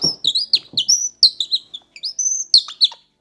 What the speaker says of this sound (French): ça, c'est rouge-gorge.